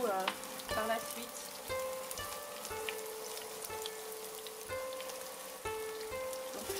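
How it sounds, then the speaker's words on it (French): Vegetables for a vegetarian risotto simmer and caramelize in a pan, a quiet, continuous sizzle with occasional light ringing clinks of a utensil against the pan. "Donc on va laisser un tout petit peu mijoter"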